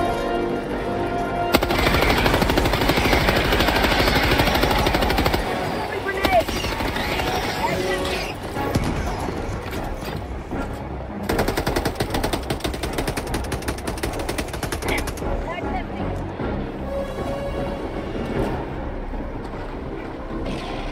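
Sustained automatic fire from a sentry turret machine gun in Helldivers 2, loud rapid bursts continuing for most of the stretch with short pauses, mixed with other battle noise.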